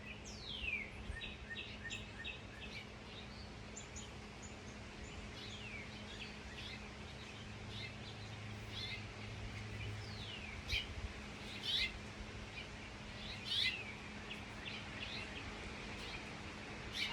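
Birds chirp and call outdoors, with a steady stream of tweets and trills and a few brighter, louder calls standing out over a constant background hum.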